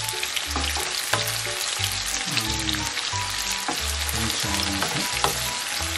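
Small onions frying in hot oil with fenugreek seeds give off a steady, close sizzle, broken by occasional stirring scrapes and soft clinks of a utensil against the pan.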